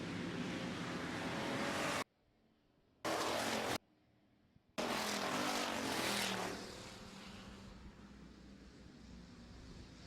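Pure stock race cars roar off together at the green flag in a feature race, their loud, close engines accelerating hard before settling into a steadier drone, with two brief silent dropouts early on.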